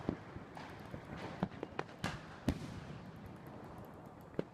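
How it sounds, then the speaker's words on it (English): A green coconut single-shot firecracker, about a foot tall, goes off outdoors at a distance. It gives a scatter of sharp, faint pops and cracks over a soft background hiss, with no talking. "It's about a foot tall, the firecracker, and this is how it explodes."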